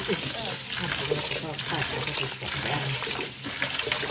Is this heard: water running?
yes